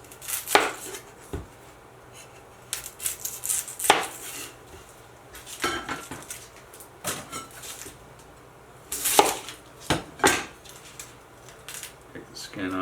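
A knife chops through a sweet onion on a cutting board, sharp uneven knocks arriving in bursts with pauses between, close and fairly loud in a home kitchen.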